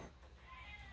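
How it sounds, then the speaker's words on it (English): A cat meows outdoors, a single drawn-out call standing close and clear over a steady low background hum, with no talk over it. "The cat's out here yelling at me."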